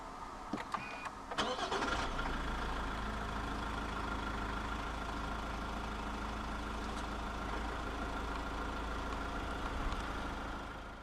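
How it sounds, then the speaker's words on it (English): A 2014 Toyota RAV4 2.0 D-4D AWD diesel is started with its push button. A short crank and catch lead into a steady, close idle that runs to the end, with no talk. "Put your foot on the clutch and press the start-stop button to the right of the steering wheel."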